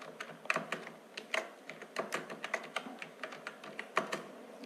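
A computer keyboard typed on while entering text in a word processor, quick irregular clicks of close keystrokes in a steady patter with no talking.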